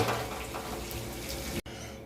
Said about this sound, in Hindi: 2 गिलास पानी डाल देता हूँ